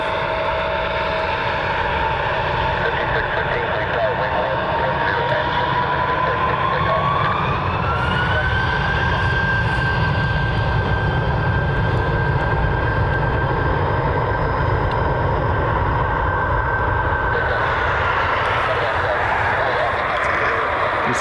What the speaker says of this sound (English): 3 aircraft taxi over for departure.